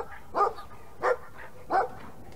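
Dog barks from the video game Brothers: A Tale of Two Sons, three separate single barks spaced evenly about two-thirds of a second apart, fairly loud over a quiet background.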